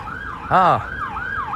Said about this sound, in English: Maybe the police are oh no, it's an ambulance.